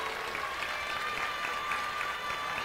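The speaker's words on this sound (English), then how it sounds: "Can we get one more round of applause for all the contestants that competed today?" Steady crowd applause for the contestants at a bouldering finals competition, a dense even wash of many hands clapping, moderately distant and unbroken throughout.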